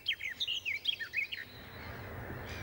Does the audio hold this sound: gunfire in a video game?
no